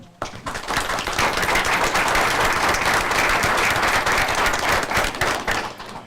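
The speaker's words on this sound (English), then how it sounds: "give Lawson, Ron, and Malcolm a round of applause on those wonderful essays that they created" A steady round of applause fills a county school board meeting, dense and loud from start to finish, rising sharply and holding strong before tapering slightly at the end.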